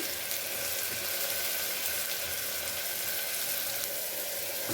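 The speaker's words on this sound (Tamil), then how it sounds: "நம்ம வெங்காயத்தை போட்டுடலாம் பொறுமையாக போடுங்க இல்லைன்னா தெரிக்கும்" Chopped onions frying in hot oil for a Tamil mutton bone kulambu, giving a steady, dense sizzle that holds at an even loudness throughout, with no talking.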